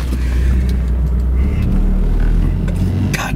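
Guards red Porsche 944 sports car with a stick shift pulling away, its engine rumbling low and steady close by at a constant level, with a faint whir on top.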